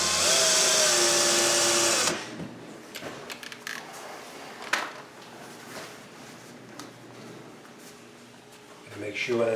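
A power drill drives a screw into the plastic base of a Nest thermostat, giving one loud, whining burst of about two seconds that stops abruptly. A person then talks over faint handling clicks.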